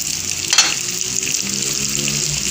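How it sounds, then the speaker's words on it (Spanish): Pork ribs fry in a pan for Coca-Cola style costillas, giving a steady, close, crackling sizzle with one brief louder spatter near the start and no talking. "Ya las costillitas ya están bien doradas."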